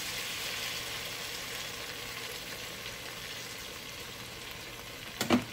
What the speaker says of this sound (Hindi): अभी मैं मिल्क डाल दूंगी। उन्होंने 1/2 कप बोला है।